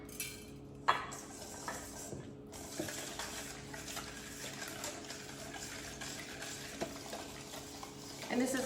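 Miso paste and garlic are worked together in a bowl for a salmon marinade, producing a quiet, continuous scraping and stirring with a few sharper clinks against the dish.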